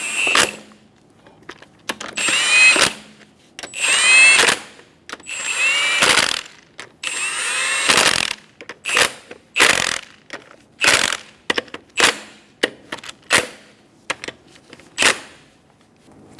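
Power tool driving lug nuts on a 2003–2007 Honda Accord wheel, loud close whirring bursts, first longer runs then a quick series of short rattling pulses with silence between.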